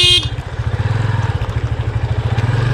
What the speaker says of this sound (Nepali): यसमा हामीले चलाउनु पर्छ बाइक